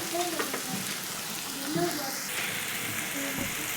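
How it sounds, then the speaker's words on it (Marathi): Safflower leaf greens sauté in oil in a pan, giving a soft steady sizzle with occasional stirring scrapes, close by, while a voice talks over part of it. "आता आपण तेलामध्ये आपली छान भाजी परतलेली आहे"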